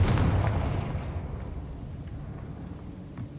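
The Confringo fire spell from the Hogwarts Legacy video game sets off a single heavy explosive boom at the start, and its rumbling tail fades slowly over the following seconds.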